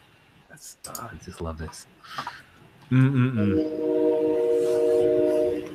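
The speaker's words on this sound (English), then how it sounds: "We have a train going in my place right now too." A train horn sounds nearby in a loud, sustained blast of steady tones lasting several seconds, following a stretch of people talking and laughing.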